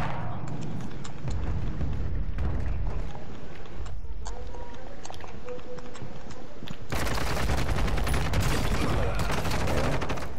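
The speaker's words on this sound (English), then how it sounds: "Mortar strike inside." Video-game mortar strike and gunfire: dense, continuous rattling bursts of automatic fire and heavy explosive rumble fill the whole stretch, loud and close, with a brief lull before an even harsher barrage.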